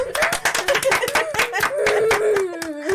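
Audience clapping on a Brazilian TV stage show, sharp rhythmic claps close by that mix with a voice and some laughter.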